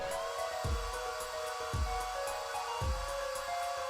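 Dryer blowing on plaster in the Apollo Justice: Ace Attorney game, a steady whirring blow with three soft thumps spaced about a second apart, alone and fairly faint.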